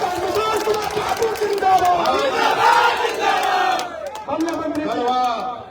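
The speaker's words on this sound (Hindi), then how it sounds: "जोरदार ताली बजाकर स्वागत करें" Large outdoor crowd at an election rally on a high school ground in Garhwa, Jharkhand, roaring and cheering loudly and steadily, with dense overlapping voices and shouts that dip briefly near the end before swelling again.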